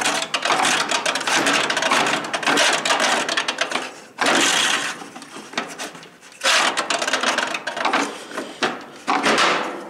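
Stuck blower fan being wrenched off its shaft on a clothes dryer: loud, dense scraping and grinding bursts in three long bouts separated by brief pauses, close up with no talk.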